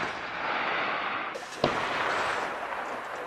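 An armored vehicle's turret gun fires a single live round at moving targets during a day-and-night live-fire exercise in mountainous eastern Guangdong, heard as one sharp, distant report over constant broadband rushing noise.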